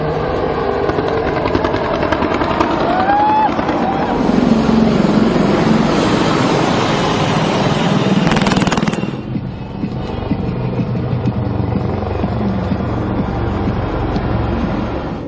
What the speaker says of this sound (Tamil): ஜாகுவார், அப்பாச்சி உள்ளிட்ட ஹெலிகாப்டர்களும் வானில் பல்வேறு சாகசங்களை நிகழ்த்தின